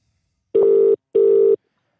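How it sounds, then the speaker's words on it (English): A telephone calls a caller back during a live phone-in show, sounding two loud, steady electronic ringing tones of equal length, separated by a brief pause and heard on their own. "Let's phone him."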